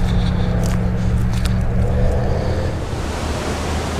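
The high Hocking River rushes past close by, a loud steady broadband roar of flowing water with a low rumble and a few brief knocks near the start.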